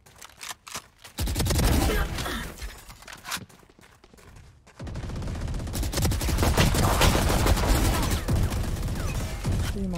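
Phantom rifle gunfire in Valorant team deathmatch gameplay: rapid automatic bursts and scattered shots, loud and dense, with a brief lull before sustained firing resumes.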